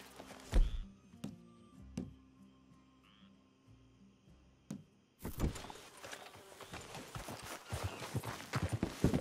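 Horses clip-clop on the ground in the video game Red Dead Redemption 2, with a few sharp hoof knocks early on and then a denser, busier stretch of hooves and shuffling.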